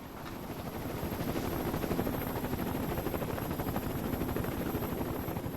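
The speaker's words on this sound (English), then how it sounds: "Send out the helicopters" A search helicopter's rotor thumps in a fast, steady rhythm, a constant chopping drone at moderate distance, north of Kathmandu airport.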